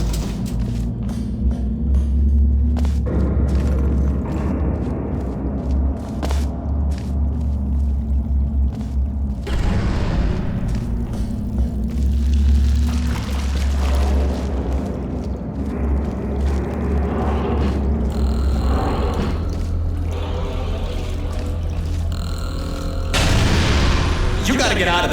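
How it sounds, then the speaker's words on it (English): Explosions and falling rocks in Portal Stories: Mel, with deep booming rumbles and crashing debris sustained throughout, under a speaking voice. "It's exploding. Rocks are falling everywhere"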